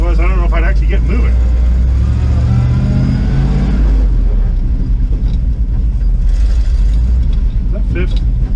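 An International 4x4 truck engine labors in low first gear as it pulls away, a loud steady low rumble with rising revs, running under continuous in-cab talk.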